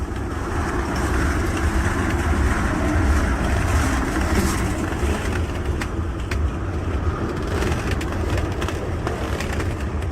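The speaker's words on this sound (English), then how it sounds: "Hear that wood creaking under that steel." Wooden railroad ties creak and groan under the steel wheels of a passing freight train, a steady, close, heavy rumble with scattered clanks and squeaks running throughout.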